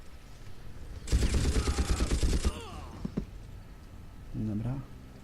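Rifle gunfire in the video game Far Cry, a rapid burst of automatic shots lasting over a second, then a couple of single reports and a brief voice-like sound near the end.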